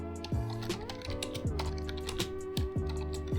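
Quick clicking keystrokes on a computer keyboard during a Python programming lesson, a short burst of typing heard close up with a steady background tone and no talking.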